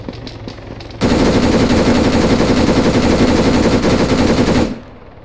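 Sustained automatic gunfire from a machine gun in the video game Arma 3 rips out as one long loud continuous burst lasting several seconds, after a few scattered earlier shots, then cuts off abruptly.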